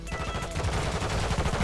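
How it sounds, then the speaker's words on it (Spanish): Rapid automatic gunfire from the video game Call of Duty: Modern Warfare II rattles in a loud, dense, continuous burst, with shots packed tightly together and no pauses. "se oyen muy fuerte los disparos, tío, cuando hablo"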